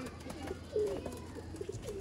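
A red-eyed breeder pigeon lets out a single short, close coo partway through, surrounded by quiet shuffling and faint background noise.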